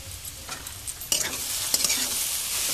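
Kashmiri chili powder fries in a pan for a papaya and potato curry: soft stirring for a second, then a sudden, loud sizzle that stays close and steady.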